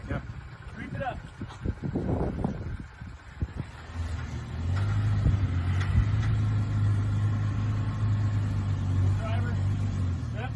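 A Toyota pickup truck engine works hard climbing a steep rocky mountain trail, holding a steady low drone and growl after a few seconds of voices talking over quieter idling and bumps at the start.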